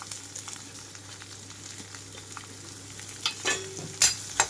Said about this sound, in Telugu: కట్ చేసి పెట్టుకున్న ఉల్లిపాయలు పచ్చిమిరపకాయలు వేస్తున్నాను.